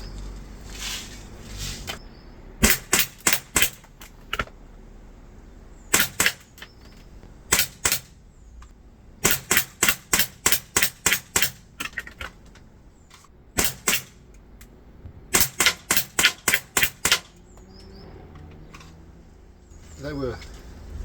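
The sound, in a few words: ASG CZ75 BB gun rapid fire with blowback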